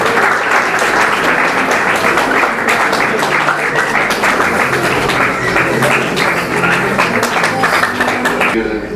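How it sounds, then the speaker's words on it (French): Wedding guests at an official marriage ceremony in a hall applaud loudly and continuously, a dense, close roar of clapping sustained for several seconds with voices mixed in. "Vos applaudissements, s'il vous plaît."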